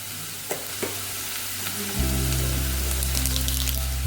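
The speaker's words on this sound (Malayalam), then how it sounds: "ഇതൊന്ന് ജസ്റ്റ് വരട്ടിയെടുക്കാം" Masala for a Kerala-style choora (tuna) fish curry is sautéed in a pan, giving a soft sizzle with a few stirring scrapes before the frying swells into a louder, steady hiss, with no talk.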